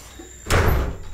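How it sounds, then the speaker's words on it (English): A door is shut quickly outdoors in a jungle setting, a single loud thud landing about halfway through and then a short fading rumble. "Let me shut this door quickly"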